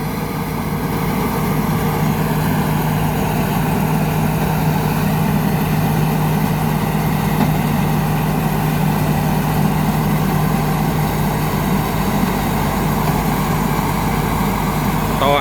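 A corn harvester's engine runs in dry fields, giving a loud, steady drone with a low hum that holds evenly throughout without a break.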